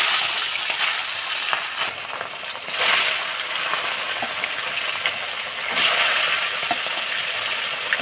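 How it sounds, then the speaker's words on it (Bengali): Katla fish pieces frying in hot oil in a kadai on a gas stove, a steady dense sizzle with brief louder bursts of spattering throughout. "আমার তেলটা গরম হয়ে গিয়েছে। এবার মাছগুলো ছেড়ে দেবো।"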